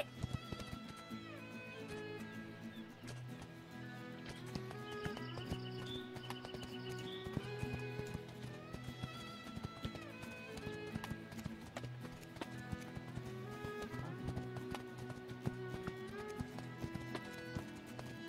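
Galloping hooves of the horse Spirit in a Spirit video game drum steadily under a loud orchestral music score, the clip-clop rhythm running evenly throughout.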